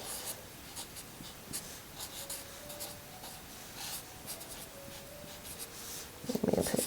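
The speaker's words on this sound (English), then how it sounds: "And I need to write cut to unfold." A pencil scratches across a paper sewing pattern for a little dress, writing quiet words in short, close strokes; a louder rustle of paper comes at the end.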